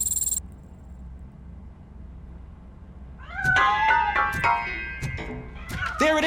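A cat in RoboCop: Rogue City, hiding inside a piano, lets out several sharp, close meows in quick succession after a quiet stretch of low background hum.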